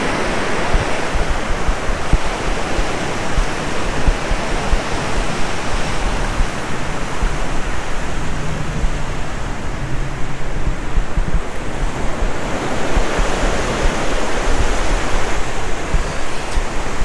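Ocean waves break on a quiet beach on Oahu's west side, Hawaii, a continuous loud surf roar swelling and easing, mixed with wind buffeting the microphone.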